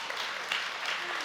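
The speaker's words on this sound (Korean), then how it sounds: "박수" Audience applause at a Korean church anniversary worship service, a soft, distant-sounding spread of many hands clapping steadily, with a faint voice briefly audible toward the end.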